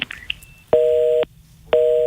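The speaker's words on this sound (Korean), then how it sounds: "지금 전화 연결하는 도중에 연결이 좀 끊겼습니다." A telephone busy signal sounds after a dropped call connection: two steady, loud tone bursts about half a second each, separated by a silent gap, following a few brief dialing-like blips.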